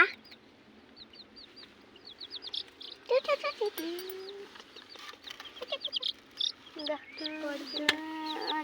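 A cluster of colour-dyed chicks keeps up busy, high-pitched peeping, with overlapping calls in quick irregular bursts that grow denser toward the end, close by.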